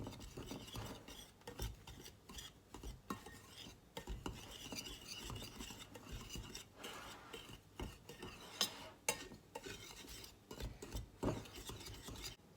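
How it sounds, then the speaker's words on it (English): Dry pantry mix of flour and black pepper being stirred in a bowl, a soft continuous scraping and rustling with irregular scratchy strokes, close and quiet. "And now we're just going to give all that a good mix"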